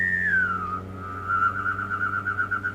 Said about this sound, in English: I can whistle and hum at the same time.